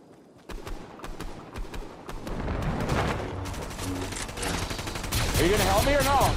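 Blaster fire in a Star Wars video game, rapid bursts of shots building into a dense, loud barrage with sharp zaps toward the end, mixed with game noise and a voice talking.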